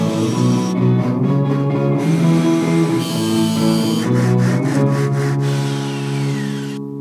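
Steel sections being cut for a steel-and-wood furniture piece, a continuous close rasping, sawing tone with repeated strokes and no talk.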